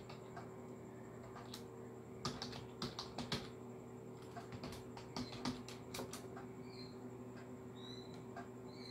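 A password is typed on a computer keyboard in short, faint bursts of key clicks over a steady low hum from the computer, with a few mouse clicks and no speech.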